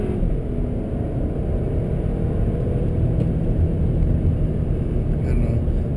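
2020 VW Golf wagon TSI 4motion accelerating hard from 0 to 60, a continuous loud low engine rumble and road noise heard from inside the cabin, steady without clear gear changes.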